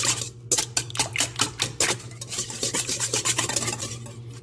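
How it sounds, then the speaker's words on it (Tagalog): Quick, irregular scraping and stirring strokes of a utensil against a bowl while milk bread dough is mixed with egg and milk, close and steady with no talking. "Mix natin."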